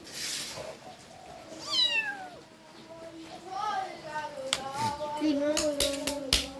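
A cat stuck inside a toy gives repeated plaintive meows, near and fairly loud, some rising and falling in pitch. People talk over them, and sharp knocks and taps sound on the toy.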